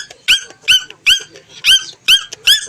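A pet dog barks six times in a steady rhythm, each bark sharp, high and squeaky with a whining edge, close and loud.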